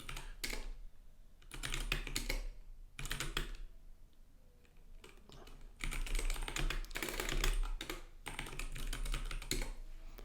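Someone types a git rebase command on a computer keyboard, making quiet, close clicking keystrokes in short bursts separated by brief pauses, with no talking.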